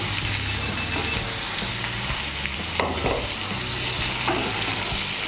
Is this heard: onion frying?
yes